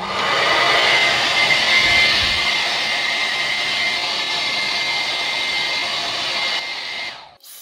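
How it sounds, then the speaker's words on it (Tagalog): A blower running steadily and fairly loud, with a broad airy hiss and rushing whoosh held for several seconds before it drops away at the end. "So ato i-try ilang blower."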